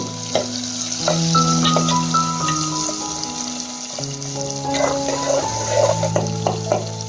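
Sliced onions and cumin seeds frying with a pinch of turmeric in a hot pan, a steady close sizzle with occasional stirring scrapes and clinks, no talking.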